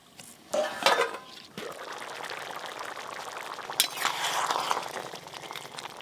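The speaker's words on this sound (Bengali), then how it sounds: "মিনিট দুয়েকের মতো ফুটিয়ে নিলেই হয়ে যাবে।" Chole curry, a chickpea curry with slit green chillies and a little sugar, simmers in a pot with a steady, close bubbling and sizzle, after a brief louder clatter near the start.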